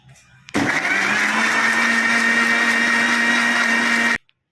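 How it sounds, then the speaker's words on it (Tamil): An electric mixer grinder runs for shawarma preparation. It starts abruptly and whirs loudly at a steady pitch for about three and a half seconds, then cuts off sharply. "போட்டுட்டு மிக்சியில் வச்சு"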